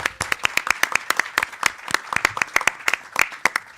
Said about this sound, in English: who deserve a round of applause for pulling this together